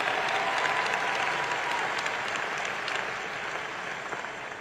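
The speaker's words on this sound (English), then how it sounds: "please give them a warm round of applause for such a quick turnaround" Audience applause fills a university commencement ceremony at Howard University, a dense steady clapping that slowly fades toward the end.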